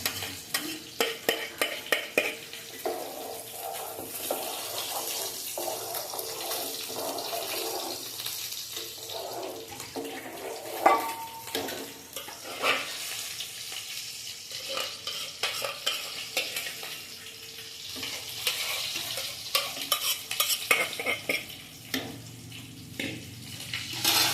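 Lentils stirred and frying in a pan, with a steady sizzle under repeated scraping stir strokes throughout, close and moderately loud.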